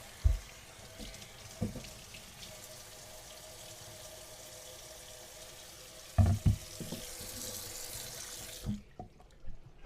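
Cut coconut dumpling ingredients rinsed under a running kitchen tap, a soft steady stream of water with a few louder splashes and clatters near the end before it stops.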